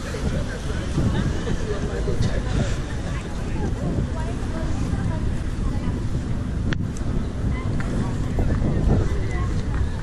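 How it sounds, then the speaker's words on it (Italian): Outdoor wind buffeting the microphone in a continuous low rumble at the station square by Piazzale Roma, Venice, with faint distant background activity and a brief click partway through. "oggi c'è vento"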